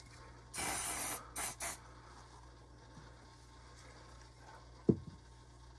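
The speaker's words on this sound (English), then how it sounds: "take our mold release and just spray a little bit in the cup" A short burst of mold release spray into a mold cup, followed by two quicker puffs, close and crisp, then near silence with a faint clunk.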